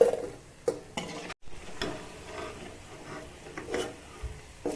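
Cauliflower 65 frying in oil in a pan, with a steady low sizzle broken by scraping stirs and a few sharp utensil clinks against the pan, close up and with no talking.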